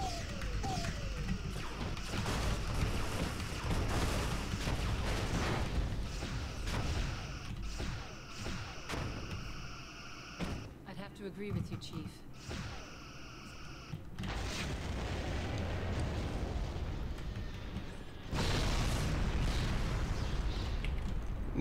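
A starship battle in a video game, a New Orleans class vessel losing its port nacelle, brings a sustained barrage of weapons fire and booming explosions, with rumbling blasts and crashes rolling continuously and swelling louder toward the end.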